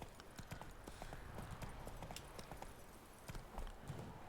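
Roach, Geralt's horse in The Witcher 3, trots with quick, even hoofbeats in a steady clip-clop rhythm, moderately close and fairly quiet.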